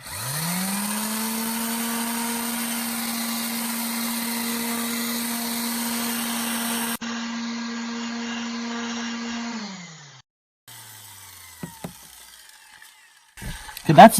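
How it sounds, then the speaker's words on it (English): An electric quarter sheet finishing sander works over autobody filler with a steady, loud motor whine that holds for several seconds, drops in pitch and winds down, followed by a few light knocks and handling sounds. "it is just a quarter sheet finishing sander"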